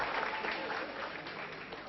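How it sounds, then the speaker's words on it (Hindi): Audience in a lecture hall applauding, a short burst of continuous, fairly dense clapping heard alone at moderate distance. "एक बार जोरदार ताली आप सभी के लिए"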